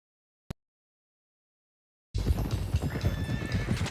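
A sharp click, silence, then a busy stretch of loose horses in Red Dead Redemption 2: hooves clip-clopping and whinnying, steady and fairly loud.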